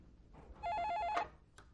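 A telephone rings once in a home, a short warbling electronic trill that rises clearly above a quiet room tone, followed by brief faint noises.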